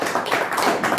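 Audience clapping in a hall, a brief burst of several hands applauding together, with a few uneven surges in the rhythm over about a second.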